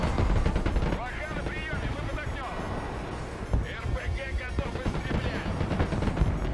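Artillery fire pounds an area in the video game Broken Arrow, with repeated booms and gunfire crackling under someone talking throughout.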